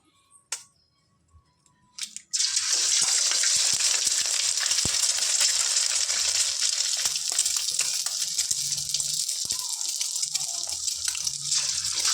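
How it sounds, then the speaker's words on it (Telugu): Four eggs dropped into a hot pan for egg lemon rice, a few soft knocks followed by a sudden loud, continuous hissing sizzle that holds steady, no talking. "ఇందులో ఒక ఫోర్ ఎగ్స్ వేసుకుందాం"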